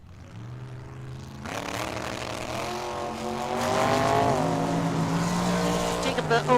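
A dragster and a 1973 Plymouth Duster race at Tucson Dragway, engines roaring loud and rising in pitch as they launch and pull down the track, with a track announcer speaking over them.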